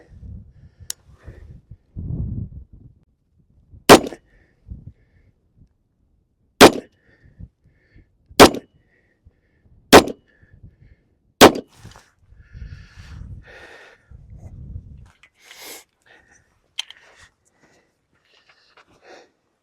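A Colt 1911 Competition .45 ACP pistol fires six sharp, separate shots at uneven intervals of roughly one to three seconds, with quiet breathing and faint handling noises between them.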